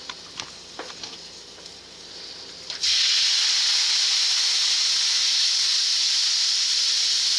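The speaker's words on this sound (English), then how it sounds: "Let's put our shrimp on. Careful, it's going to sizzle." After a few faint clicks and taps, a loud burst of sizzling hiss erupts and continues steadily as shrimp hit hot oil in a pan.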